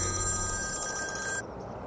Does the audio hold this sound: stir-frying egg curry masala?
no